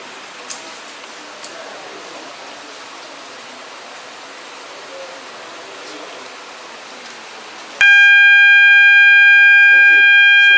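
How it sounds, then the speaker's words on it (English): A smoke detector in a fire alarm training setup starts a loud, steady high-pitched electronic alarm tone partway through. It cuts in abruptly after a stretch of quiet room noise and keeps sounding to the end. "let us see how the smoke detector detects smoke and feeds you with an output"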